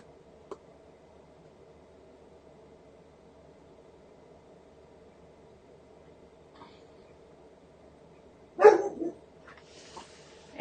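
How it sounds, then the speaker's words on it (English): Two chow chow brothers break into a sudden burst of barking and scuffling near the end, loud against an otherwise quiet indoor hum, with a few fainter yelps trailing after. "And there go the dogs again."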